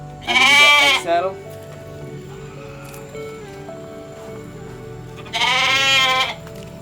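Merino goats on a farm give two loud, long bleats, one near the start and one near the end, with quieter farm ambience and faint background sounds in between.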